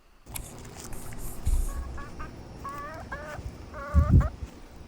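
Chickens cluck in short bursts inside a backyard homestead coop, fairly close, with a few louder thumps and rustles of movement and no talking.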